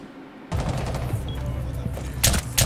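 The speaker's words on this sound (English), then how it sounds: "We're shooting through everything." Rapid bursts of gunfire in a Rainbow Six Siege-style video game as shots tear through walls, dense and loud throughout with sharper cracks near the end.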